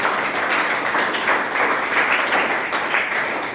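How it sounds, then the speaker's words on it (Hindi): An audience breaks into loud, continuous applause for a printing press owner at an event, a dense wash of many hands clapping that stays steady throughout with no talk over it. "तो एक जोरदार तालियां आ जाएंगी इनकी।"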